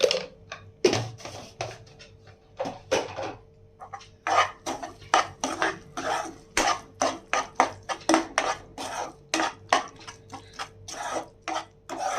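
A utensil beats and stirs a raw egg mixture in a metal bowl for egg rice, giving quick rhythmic clinks and scrapes, close and moderately loud, with brief pauses and no talking.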